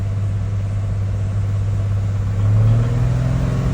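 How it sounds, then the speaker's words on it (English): A 1989 Toyota Supra MK3 with the 7MGTE engine revs slowly and steadily, a low droning idle that rises gently toward the end, heard up close with no voices. "All right, let's rev it slowly"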